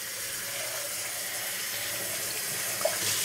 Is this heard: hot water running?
yes